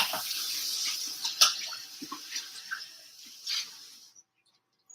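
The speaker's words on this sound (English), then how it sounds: "we're going to rinse out this cup" A cup being rinsed under a running kitchen tap while making a milkshake, a steady close hiss of flowing water with brief splashes, ending abruptly as the tap shuts off.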